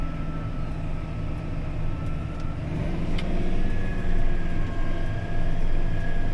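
A John Deere S670 combine with an IVT transmission runs steadily, its engine drone building slightly as the machine revs and pushes forward, a continuous close rumble with no voices.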